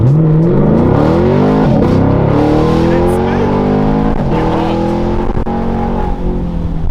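A Whipple-supercharged car accelerates hard, its engine note climbing steadily through two gear changes, loud and close, with a person speaking over the roar.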